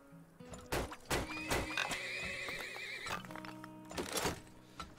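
A horse whinnies loudly over a steady synthetic backdrop in the video game Turmoil: The Heat Is On, with clip-clop hoofbeats and a second neigh toward the end.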